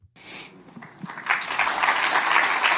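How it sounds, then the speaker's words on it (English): Obligatory audience applause at a political talk event, a burst of clapping that starts quiet and swells into a steady, full wash of hands. "Hear this obligatory clapping."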